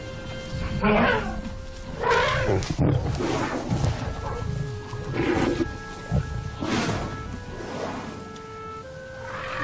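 Lions roaring at night near a herd of elephants on the savanna, a series of deep, rough calls swelling and fading every second or two, fairly close, over a steady low background rumble.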